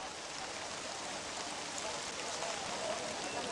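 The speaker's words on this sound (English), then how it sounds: "it rains on this day, and often the rituals are performed in heavy rain" Heavy rain pours steadily during outdoor rituals in Kerala, a dense, even broadband hiss of rainfall with no pauses, heard close and continuous.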